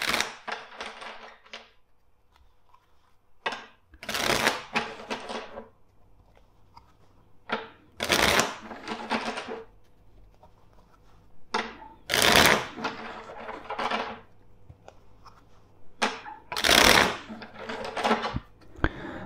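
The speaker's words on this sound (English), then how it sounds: "First, let's shuffle the deck four times." A deck of tarot cards being shuffled by hand, close and dry, in several short bursts of riffling and slapping separated by quiet pauses.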